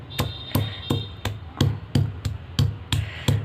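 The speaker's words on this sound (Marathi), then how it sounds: "लसूण लसूण जरा ठेसून घ्यायचं" Garlic cloves pounded to crush them for a dry coconut chutney, about ten evenly spaced heavy thuds in a steady rhythm, close and loud with no talking.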